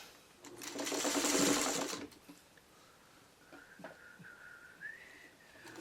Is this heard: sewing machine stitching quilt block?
yes